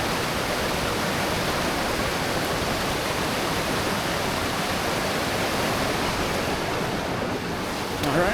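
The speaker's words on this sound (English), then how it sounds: "A lot of little waterfalls coming down too." Many small waterfalls of clear water spill down among boulders, making a steady, dense rush that holds unbroken and loud from start to finish with no voices.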